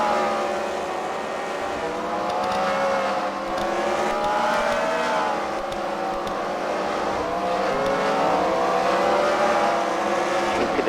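Race cars at a CWRL Fight Night round at The Freedom Factory, several cars running together in lap traffic, a continuous layered engine drone with rising and falling pitch sweeps as they pass, loud and steady throughout with no talk.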